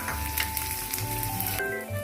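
Onions frying in hot oil for Karaikudi-style coconut chutney give a steady, close sizzling hiss that runs without a break through the short stretch.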